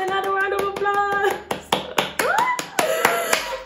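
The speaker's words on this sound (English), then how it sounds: "Another round of applause." Sparse, uneven hand claps, a few sharp individual claps rather than a full crowd, cheering a new job announcement, mixed with musical tones and a voice.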